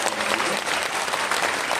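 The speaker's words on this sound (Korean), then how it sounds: "박수로 환영니다" Audience applause welcomes a guest at a formal Korean ceremony, steady dense clapping filling the room from start to finish.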